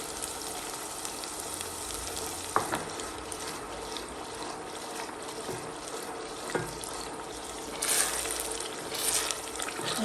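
Ginger, garlic and onions fry in a pan with a continuous crackling sizzle, and a few clinks and scrapes of stirring break through now and then.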